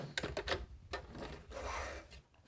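A home sewing machine back stitching across the start of a seam on a small beginner craft project: a short burst of quick mechanical clatter, pausing, then a second rapid run of stitching, close up with no voices.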